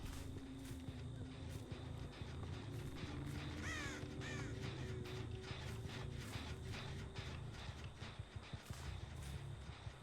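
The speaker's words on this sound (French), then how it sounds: "Il y a eu un corbeau." Crow cawing in the horror video game Dead by Daylight: a couple of distant harsh caws partway through over a busy, noisy game background with clattering sounds.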